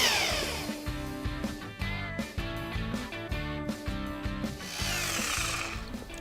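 A power drill runs in repeated short bursts, driving out the screws that hold the metal retainer frame on a skylight, loud and close with steady whirring and brief pauses between screws.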